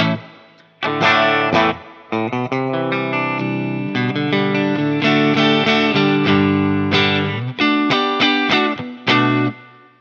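Electric guitar through a Fractal FM3 amp modeler set to a 1959SLP Treble Plexi Marshall with reverb, playing chords and notes with a clean-to-crunchy tone and a lingering tail after each phrase.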